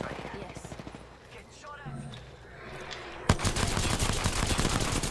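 Rapid automatic gunfire in the battle royale shooter Apex Legends bursts in loud and dense partway through, following quieter game sounds and a voice talking.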